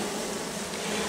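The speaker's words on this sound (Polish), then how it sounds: "Pszczoły po prostu siedzą i no i nie są w stanie wyjść" Honey bees buzzing at a troubled forest apiary hive kept without chemicals, a dense, continuous close-up hum with no pauses.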